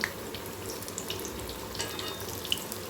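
Banana bajji (vazhakkai pakora) fries in hot oil, giving a faint, steady hiss with small scattered crackles throughout.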